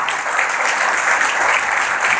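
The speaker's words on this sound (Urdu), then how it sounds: "تو خدا کے لیے زور و تالی بجائیں" A church congregation claps loudly together during a service, producing a dense, sustained burst of applause that fills the room for a couple of seconds.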